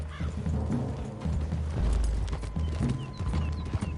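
Horses in Red Dead Redemption 2 plod through woods with uneven, fairly close hoof clops. A low rumble and some faint background noise run underneath, and there is no talking.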